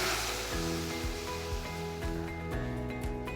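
Water poured into hot oil perfumed with cloves and spices for cooking rice, giving a loud, dense, continuous sizzle and hiss close by, with a low bubbling rumble underneath.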